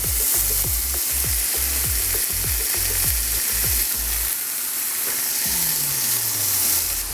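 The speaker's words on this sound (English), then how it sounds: "now we're gonna go ahead and just throw some bacon in there. A little bit of, hear that sizzle?" Bacon strips frying in a pan too small for them, giving a loud, constant sizzle and hiss, broken by repeated low knocks and scrapes as the pan is handled, with one longer scrape near the end.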